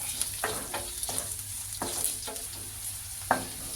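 Chopped Byadgi chillies stirred into a bisibelebath mixture in a pan, with a spoon scraping in irregular strokes over a soft continuous sizzle, close and alone without voices.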